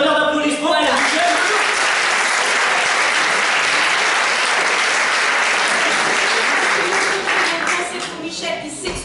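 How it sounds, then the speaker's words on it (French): A festival audience at an awards ceremony breaks into loud, sustained applause that fills the room evenly before tapering slightly at the end. "Un tonnerre d'applaudissements pour Michel."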